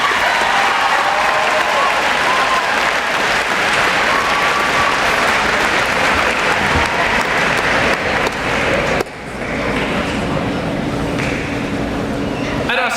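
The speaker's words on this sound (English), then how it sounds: "One more round of applause for Team 8-1," Loud, sustained applause from a large audience at a middle school promotion ceremony fills the whole stretch, dipping briefly before carrying on at full strength.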